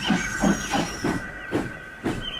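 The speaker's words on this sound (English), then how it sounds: "Gordon backed down on his train, hissing mournfully." A steam engine named Gordon hisses and puffs rhythmically, about six steady chuffs of steam over a continuous hiss and a faint whistle-like tone, close and fairly loud.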